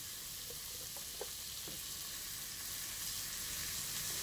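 Shrimp stir-frying in oil in a pan for a Thai basil shrimp dish, giving a steady close sizzle with a few soft scraping stirs and no talking.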